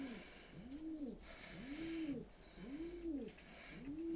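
Fantail pigeons coo repeatedly in a steady rhythm, four soft rising-falling calls close by, with faint background birdsong and no talking.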